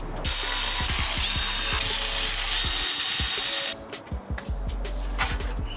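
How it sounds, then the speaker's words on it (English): A power tool rapidly drives and tightens screws on a Honda Civic transmission during a rebuild, loud buzzing whirs with repeated ratcheting bursts, then a quieter stretch of clicks and handling noises. "So now we can go ahead and tighten all our screws"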